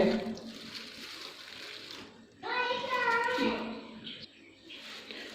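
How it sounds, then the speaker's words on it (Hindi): Two medium potatoes, cut up, get rinsed in a bowl of cold water, with soft splashing and sloshing heard close up under a person talking. "सबसे पहले इन्हें ठंडे पानी में अच्छी तरह धो लेना है डाल के।"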